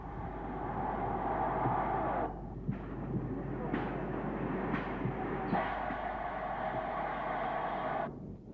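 A 1932 0-4-2 steam tank locomotive, number 1424, fitted for push-pull working, rumbling along with a steady chuffing roar, several sharp cut-offs and bursts, and a faint voice over parts of it.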